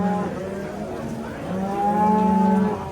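Cattle lowing at a busy Uzbek livestock market: a few drawn-out, tonal moos, one near the start and a longer, louder one in the latter half, over a low crowd murmur.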